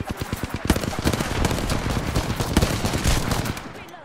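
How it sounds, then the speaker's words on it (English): Rapid, loud bursts of automatic gunfire from the video game Apex Legends, shots crowding together in dense volleys that run almost without pause for the whole stretch. "I've shot him so many times."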